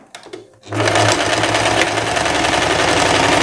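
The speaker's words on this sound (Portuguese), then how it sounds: "Então você vai passar uma costura reta aqui na manga e ao mesmo tempo passar na overlock." Sewing machine with overlock running a straight seam along a shirt sleeve, starting after a few light handling taps and then whirring steadily and loudly without pause to the end.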